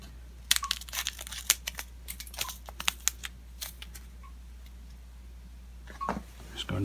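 Scissors make quick crisp snips and crinkle a small yeast packet, several sharp clicks in bursts, close up, with a faint hum underneath.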